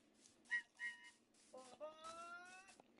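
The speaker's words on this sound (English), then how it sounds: "I've got myself a little train whistle for this journey." A little toy train whistle is blown in several short toots followed by a longer wavering blast with layered tones, fairly faint and heard alone.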